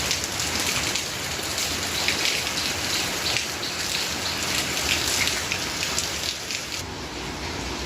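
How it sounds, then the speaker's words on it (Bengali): Heavy morning rain pours steadily and loudly, a dense, unbroken hiss of drops on surfaces that carries on alone from start to finish. "সকাল থেকে বৃষ্টি হচ্ছে"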